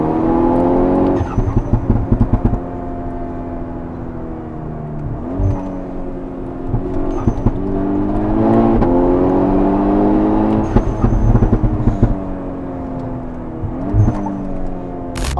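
A VW Golf 6 R tuned to Stage 2+ with popcorn exhaust software revs hard, engine pitch climbing repeatedly through several bursts, with crackling pops between pulls, close and loud.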